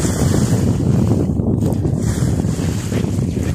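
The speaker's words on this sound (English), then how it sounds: "We've only got about 8 or 9 knots of wind." Steady wind buffeting a sailboat under way in light breeze of about 8 or 9 knots on a wide North Carolina river, a continuous loud rushing roar with low gusty rumble and faint water wash, no voices.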